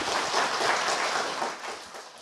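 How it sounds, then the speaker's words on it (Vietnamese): Dense, steady applause from an audience at a Vietnamese television game show fills the space, loud and continuous before tapering slightly toward the end. "một tràng pháo tay để cổ vũ cho bạn Hữu Lâm ạ"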